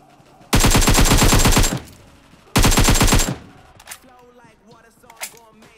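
Automatic M16A4 rifle fire in the mobile game PUBG Mobile, two loud sustained bursts with a short pause between them, followed by quieter scattered sounds and a few faint clicks.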